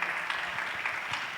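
A church congregation claps together in a steady rhythm during a morning service, the patter even and moderately distant, with no talk over it.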